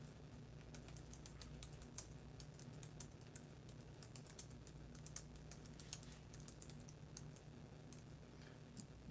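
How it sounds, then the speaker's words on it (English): Fast typing on a computer keyboard, a dense run of light clicking keystrokes heard close and fairly quiet over a steady low hum, with no one talking. "I'll just type it in there for you"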